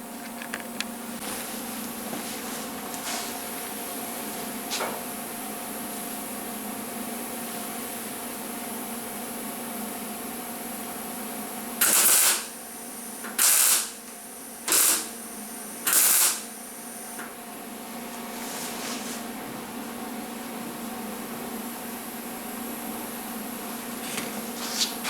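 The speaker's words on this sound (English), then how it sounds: "Start welding." MIG welding on a lower rear quarter panel patch of a 1977 Camaro Z28 gives four short bursts of crackling hiss, a few seconds apart, over a steady low shop hum.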